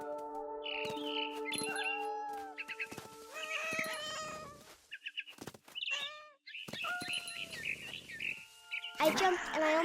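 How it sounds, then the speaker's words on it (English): Chirpy, synthetic bird tweets and short trills repeat over a busy game soundscape, mixed with cat meows and bright electronic tones. "Then I heard chirping outside my window."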